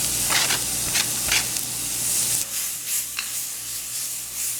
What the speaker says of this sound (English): once the oil is hot, in goes my pimento, onion, garlic, and the carrot